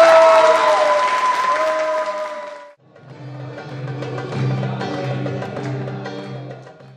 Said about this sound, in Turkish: Ve çocuklarımızı tabii alkışla tebrik ediyoruz.